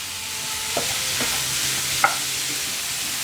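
Mutton curry ingredients frying in a pan, a steady close hiss of sizzling oil with a few distinct scrapes of a spoon stirring against the pan, no talking.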